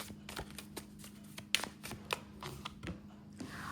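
A deck of tarot cards being shuffled and handled in a quiet room, soft papery riffles and taps in short bursts, fairly faint and close.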